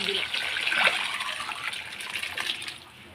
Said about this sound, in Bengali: ডালটা আমি এখন দিয়ে দেবো এই যা জল আছে আর জল দিতে হবে না তো ডালটা ঢেলে দিই